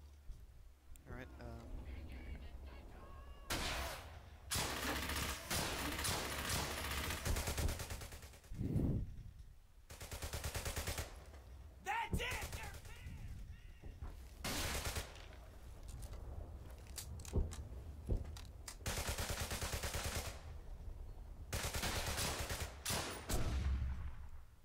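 Heavy battlefield gunfire in the World War II shooter Brothers in Arms: Hell's Highway, with loud bursts of rifle and machine-gun fire separated by short lulls. Shouting voices cut in between the volleys.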